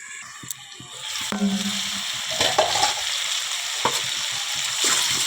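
Pumpkin, potato and fish-head curry, seasoned only with salt so far, sautéing in a pan: a steady close sizzle with scraping stir strokes and a few sharp utensil clicks, no talking.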